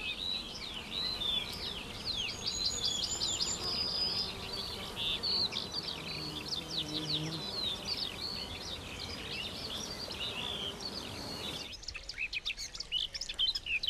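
Bees buzz steadily around chestnut flowers amid a busy chorus of chirping birds, a dense outdoor hum that drops away sharply near the end.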